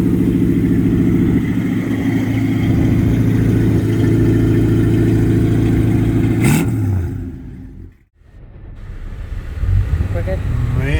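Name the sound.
1946 Chevrolet Business Coupe engine with upgraded motor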